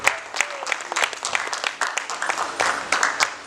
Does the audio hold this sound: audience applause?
yes